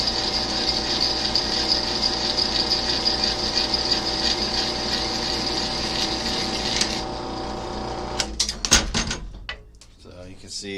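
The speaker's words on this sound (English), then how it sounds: "drilling in the carbon steel builds up a lot of heat" A drill bores into carbon steel during knifemaking, giving a steady, loud mechanical whine for about seven seconds before stopping, then a few sharp clanks and rattles.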